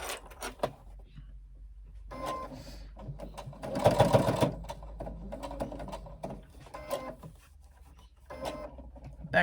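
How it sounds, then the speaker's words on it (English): A domestic sewing machine stitches a box pattern onto a handbag connector piece, whirring steadily in close, uneven bursts of motor and needle clatter, with a louder run near the middle. "I'm stitching a box on this connector piece."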